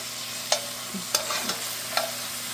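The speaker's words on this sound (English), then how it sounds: "Just make sure to have enough oil to saute your onions" Onions sautéing in oil in a pan give a steady low hiss, broken by a few distinct spatula scrapes and clicks, close and fairly quiet, with nobody talking.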